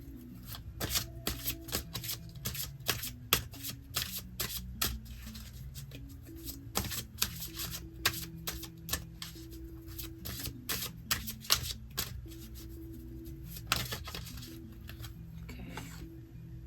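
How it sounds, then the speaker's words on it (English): Tarot cards are shuffled by hand at close range during a reading, with dense, rapid papery flicks and riffles repeating steadily for over fifteen seconds over a soft low background tone. "I'm going to pull maybe one last card or however many come out."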